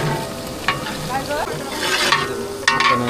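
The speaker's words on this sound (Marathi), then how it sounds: "तेलामध्ये आता मोहरी, त्याचबरोबर जिरा आणि त्याच्यानंतर कांदा आणि कढीपत्ता टाकून घेतला जातो" Mustard seeds, cumin, onion and curry leaves frying in hot oil while being stirred for a large festive vegetable dish, a steady sizzle with a few sharper bursts of crackling and scraping, close and fairly loud.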